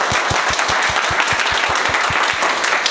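An audience claps loudly, with dense, continuous applause and some sharp individual claps standing out in a steady rhythm, close and full throughout.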